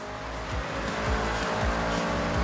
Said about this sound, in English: This car just wants to sledge into a corner. It doesn't know what braking is